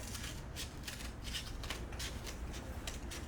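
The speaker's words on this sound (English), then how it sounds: "just start cutting your toilet roll tubes just like this" Scissors snip through cardboard toilet roll tubes at a craft table, a quick run of sharp, papery cuts and rustles repeating close by with no talking.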